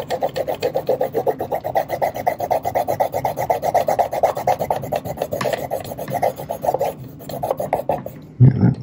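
Steady rasping scrub on a Kodak Instamatic 300 camera body while white paint spots are worked off, a close, continuous rubbing stroke repeated for about eight seconds before a brief thump near the end.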